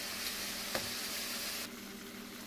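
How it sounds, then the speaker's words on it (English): Vegetables seasoned with Maggi sizzle in a pan while being stirred, a steady bright hiss with one sharp utensil tap, dropping slightly in level partway through. "Mix, mix, mix until everything is nicely mixed."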